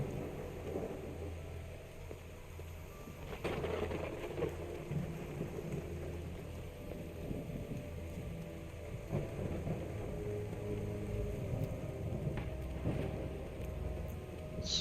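Rain in the video game Call of the Elder Gods, a steady soft downpour with occasional low rumbling thunder rolls, heard at a moderate distance and continuing throughout.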